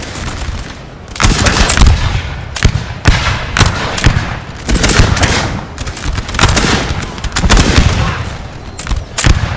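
Dense musket volleys crackle in a Napoleonic-era battle in the Napoleon Total War video game, Battle of Orthez 1814, loud and continuous with overlapping bursts and heavy rolling booms across the whole stretch.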